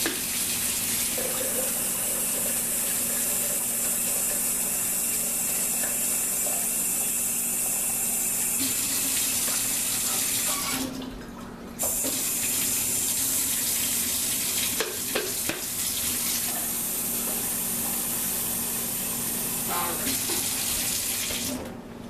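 Tap water runs steadily into a container being filled to 8 cups for horchata, a continuous rushing splash with a brief pause partway through before the flow resumes.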